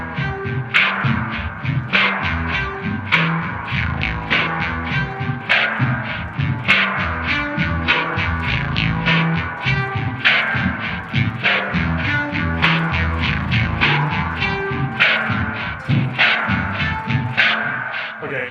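Electric guitar played through a BOSS SY-200 synthesizer pedal gives a dense, industrial, synth-like tone, with rapid rhythmic pulsing notes that stay loud and continuous throughout.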